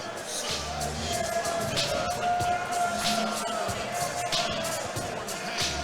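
A crowd at an amateur MMA fight night cheers and whoops around the cage before a 155 lb bout, a continuous roar of voices with scattered shouts and thuds, and an announcer talks over it.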